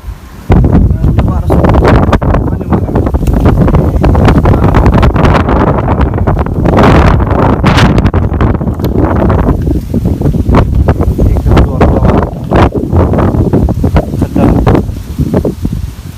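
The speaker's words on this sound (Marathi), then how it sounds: "आता तो वारा सुटला जोरदार" Strong gusty wind roars steadily and loud across the microphone outdoors as rain begins, a continuous broadband rush with brief surges throughout.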